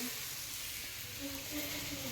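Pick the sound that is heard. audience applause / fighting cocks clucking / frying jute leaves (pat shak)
frying jute leaves (pat shak)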